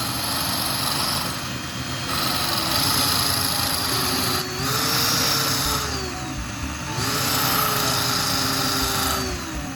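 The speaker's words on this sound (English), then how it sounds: "Next, I'm going to grind down the remaining tip of battery core." The tip of an old battery core ground down with a small power tool: a steady high whine that rises and falls in pitch as the tool bears on the workpiece, close and continuous, with no talking.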